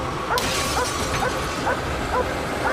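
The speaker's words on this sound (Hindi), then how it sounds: "रुको, सेज इस कार पर भौंक रही है" A dog named Sage barks at a parked car: a series of about six short, sharp barks spaced evenly over a noisy background, with a brief crash-like hit near the start.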